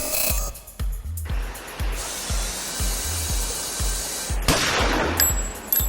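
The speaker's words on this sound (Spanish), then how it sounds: "Un disparo acertado fue a parar a la pierna del indefenso soldado" Rapid, evenly spaced gunshots thud one after another in a steady rhythm, loud and close, over a continuous hissing background.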